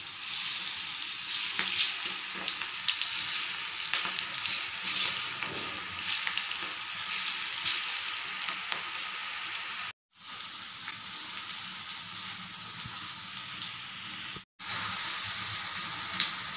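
Spinach pakoda fry in hot oil with a steady, dense sizzle and crackle that holds at even loudness throughout, broken by two brief silent gaps.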